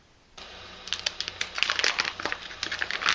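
A sealed plastic bag holding a spool of white Creality Hyper PLA 1.75 mm 3D printer filament is pulled open, producing close, bursty crinkling and rustling of plastic after a brief quiet start.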